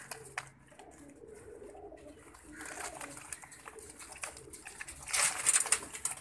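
Pigeons of a Teddy Blood breeding line, kept by a loft breeder, coo softly and intermittently in a quiet setting. Light rustling and a brief burst of wing or water noise follow near the end, with no talking.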